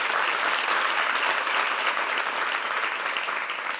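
Studio audience applause at a French talk show, a dense, steady clapping from many hands that stays loud and close for the whole stretch with no voices over it.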